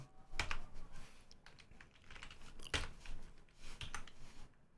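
A computer keyboard clatters quietly and irregularly as someone types a terminal command and password, with short bursts of key clicks and a few sharper taps.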